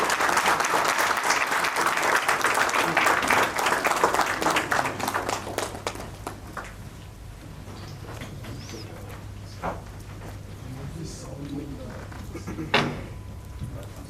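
Applause from a workshop audience greets a guest invited to the stage, loud dense clapping for several seconds that thins out into scattered claps and faint room noise with occasional voices.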